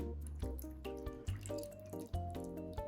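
Vinegar pours into a bowl over pork being prepared for Thai crispy pork belly, a close, quiet liquid stream with ringing, gurgling splashes and drips, no one talking.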